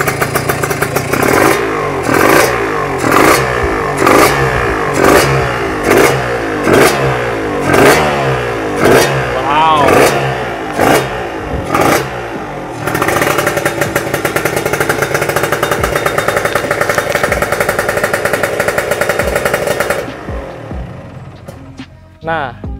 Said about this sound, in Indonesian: tadi kita dengerin sendiri suara mesinnya kayak gimana